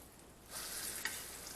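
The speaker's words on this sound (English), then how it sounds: "here we are in the frying department, or sauteing" Chicken pieces laid bone side down in hot vegetable oil in a pan, breaking into a steady close sizzle after a quiet start, with one brief clink partway through.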